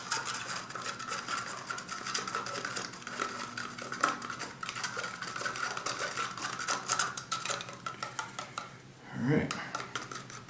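Paint being stirred in a cup, a whitish green mix for a scale model refit strongback, gives a steady run of scraping, clinking strokes against the cup sides, close and moderately loud, with a brief louder knock near the end.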